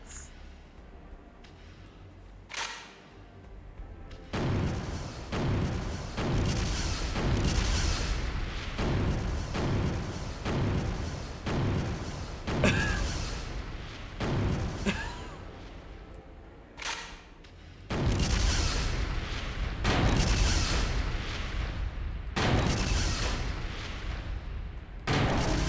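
Repeated gunshots from the video game Killer7 as lockers are shot over and over, sharp loud blasts in a rapid irregular series with short pauses between bursts.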